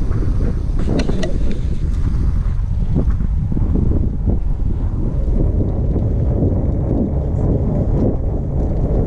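Fat bike tires rolling along a spring street, heard from a handlebar-level ride as a constant loud rumbling hiss, mixed with strong wind buffeting the microphone throughout and no talk.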